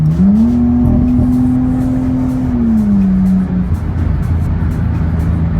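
A Nissan Skyline R33 fitted with a new straight pipe exhaust accelerates hard, a loud sustained engine drone rising then falling in pitch as it pulls away, steady and close throughout.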